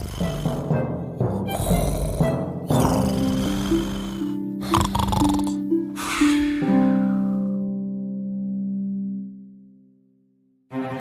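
A voice imitates snoring during a bedtime story about princesses, with several deep rasping snore sounds, gasps and snorts followed by a long drawn-out droning exhale that fades away, loud and close.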